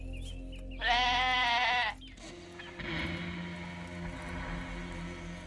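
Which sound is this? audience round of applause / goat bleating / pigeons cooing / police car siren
goat bleating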